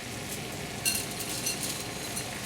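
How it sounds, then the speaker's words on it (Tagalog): Pancit bato noodles are stirred in a hot pan, giving a steady sizzle with soft scraping stirs and a few brief louder clatters, close and even throughout with no talking. "ito na yung ating noodles at haluin lang natin to"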